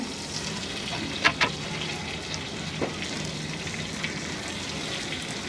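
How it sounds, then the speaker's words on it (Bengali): Turmeric powder stirred and frying in hot oil for a Bangladeshi hilsa-head khichuri, a faint steady sizzle with a few sharp scraping clicks of the spoon against the pan, no talking. "এইটাকে একটু নাড়াচাড়া করে নিয়ে হলুদের কাঁচা গন্ধটা চলে যাক তেলের মধ্যে"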